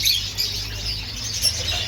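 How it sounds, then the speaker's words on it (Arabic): Diamond doves at an outdoor bird market in Salé give soft, close chirps and brief calls over a low, constant background rumble. "وهادو راه الحمام الماس ياك"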